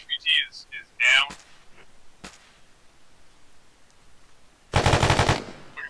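Sharp bursts of automatic gunfire during a video game military raid on a drug and human trafficking compound, a loud closing burst with quieter scattered shots earlier, and voices talking over the radio.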